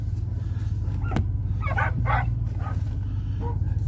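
Several dogs bark and yip in short bursts at a truck starting up, the calls fairly close over a steady low motor rumble, with no talking.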